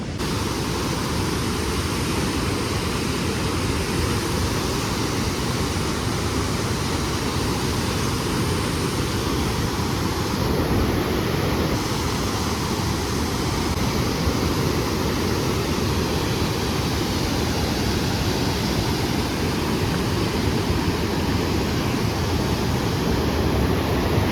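Heavy rushing water let out through opened dam gates at Rondia, a loud, unbroken roar filling the scene at close range, steady from start to finish with no voices heard.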